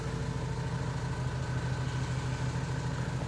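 Renault Trafic van engine idling after a no-start fault was fixed, a steady low rumbling drone heard close and continuous throughout, no voices.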